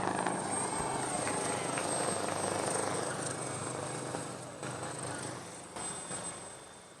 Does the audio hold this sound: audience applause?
no